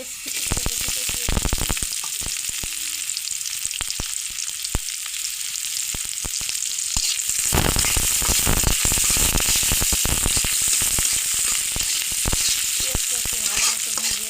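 Chopped onion browning in hot oil in a wok gives a constant, close crackling sizzle, broken by frequent scraping, clattering stirs of a spatula against the pan.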